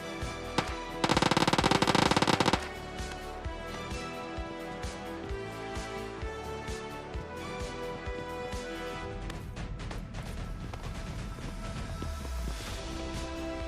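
Rapid automatic shotgun blasts from an S12K in a mobile battle-royale shooter game, a loud dense burst lasting over a second near the start, followed by quieter game sounds and background music.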